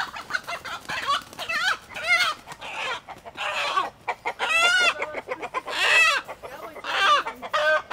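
A flock of farmyard chickens clucks and squawks close by, with a rooster among them; the calls come in bursts of varied pitch with short pauses between.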